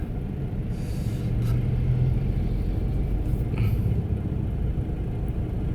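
Evening road traffic on Souphanouvong Road in Vientiane, with tour buses passing: a steady, continuous low rumble of engines and tyres fairly close, with a couple of brief higher hisses like air brakes.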